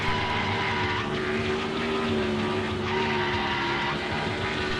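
A monster truck engine drones steadily while doing donuts on grass in a NASCAR video game, a loud continuous game-engine hum with slight pitch wobbles and no talking.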